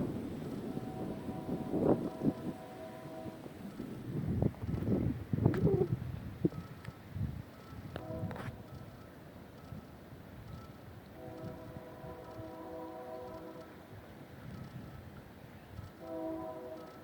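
A train passes through a nature center, with repeated horn blasts sounding at a distance over low rumbling, birds calling, and scattered knocks nearby.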